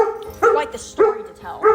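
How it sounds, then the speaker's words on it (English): A pet dog barks three times in a row, loud and close, each bark a short sharp burst while a person keeps speaking through them. "I got 2 dogs, and he's barking."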